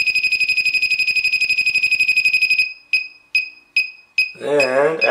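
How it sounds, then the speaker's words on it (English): A low-cost refrigerant leak detector alarm shrills a rapid, continuous high-pitched beeping up close, then slows to a few separate beeps before a person starts talking. "that little tiny amount the detector was able to detect"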